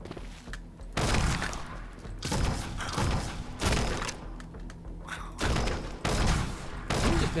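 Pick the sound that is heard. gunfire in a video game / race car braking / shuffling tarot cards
gunfire in a video game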